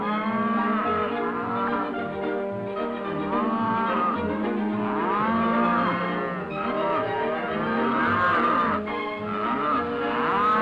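Cattle on a Texas ranch moo continuously, many overlapping calls from a herd rising and falling loudly and close by without any talk.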